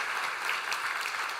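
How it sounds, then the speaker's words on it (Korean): A church congregation applauds to welcome a newly married daughter and her family, a short burst of many hands clapping evenly in a large room. "우리 박수로 축하하고 환영하도록 하겠습니다"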